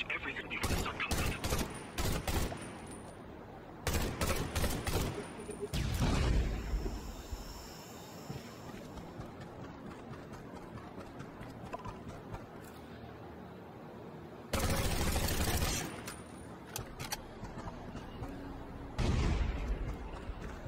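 Undawn shooter gameplay with gunfire and grenades: loud clusters of rapid shots and blasts separated by quieter stretches, with a voice speaking now and then.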